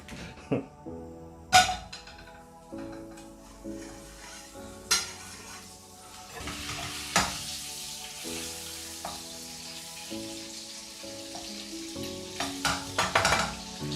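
Butter melting in a hot wok over a lit burner, with a steady low sizzle under repeated clinks and scrapes of a utensil against the pan and a few sharper knocks.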